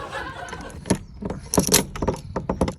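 House keys jingle and clink in a series of bright metallic rattles, close and irregular, with sharper bursts toward the end.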